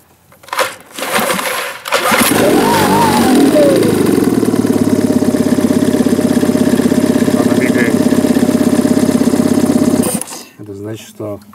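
A small engine cranks and fires up after a few seconds, then runs at a steady, close idle with a chattering mechanical rhythm for about eight seconds before cutting off, with brief talk at the start and end.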